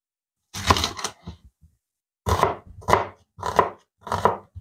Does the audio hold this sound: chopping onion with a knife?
yes